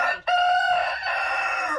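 A rooster crows loudly and close by, one drawn-out, strained call with a brief intake at the start, in a farmyard with chickens.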